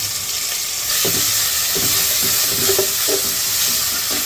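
Onion and garlic paste sizzles loudly in hot oil with bay leaves, cardamom and cinnamon for biryani, a constant hiss broken by several soft knocks of stirring.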